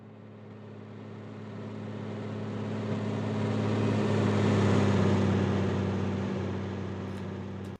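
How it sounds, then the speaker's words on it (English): A designed car driving effect with a steady engine drone that swells gradually to a peak midway and then eases back, smooth and continuous with no voices. "where the car drives over that little ramp there"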